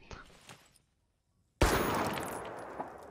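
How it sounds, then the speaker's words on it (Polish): After a brief silence, a sudden burst of loud gunfire erupts in the video game Jagged Alliance 3 and continues as a sustained volley of rapid shots, preceded by faint background noise. "Padają strzały."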